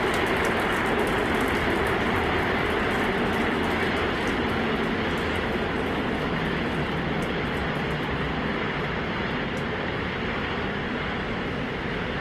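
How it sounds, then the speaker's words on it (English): Starship's 33 Raptor engines roar at launch during the second flight test, a steady, dense broadband rumble that stays loud and unbroken from start to finish, with no talk over it. "33 Raptor engines powering the first stage."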